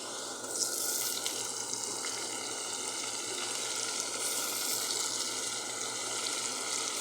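Curry leaves fry in hot oil for a kuzhambu, giving a dense, continuous sizzle that stays close and even throughout, with a few faint crackles and no talking.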